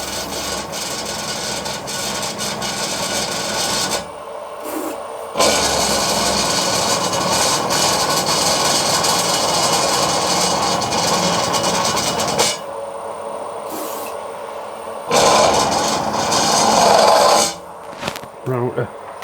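Machining a copper boiler part out to 17 mm, a rough, rasping cut of tool on copper in long sustained stretches, loud and close, with short pauses where the cutting stops and restarts.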